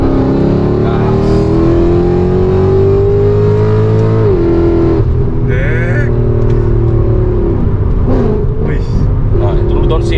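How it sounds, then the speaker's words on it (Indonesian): A Mercedes C63 AMG 6.3-litre V8 cruises under load on a toll road, then drops a gear with quick throttle blips. Its loud engine note shifts, dips sharply, then jumps back up in short, snarling rev surges. "downshift, gas dikit, pancing doang"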